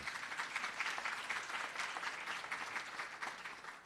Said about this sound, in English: Let's give her another nice round of applause.